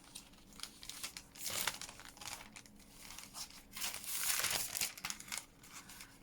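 Expensive cellophane crinkles and crackles as it is handled for collage work, in irregular bursts of rustling with louder crumples midway and toward the end, close up and with no voices.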